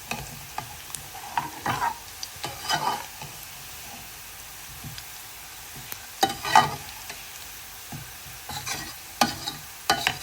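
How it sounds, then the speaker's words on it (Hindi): Dal tempering shallow-fries in oil on low heat with a soft, steady sizzle, broken by scrapes and clinks of a spoon stirring at irregular intervals, up close and with no talking. "अब इसे शैलो फ्राई करके इसको मैं दाल में डाल दूँगी"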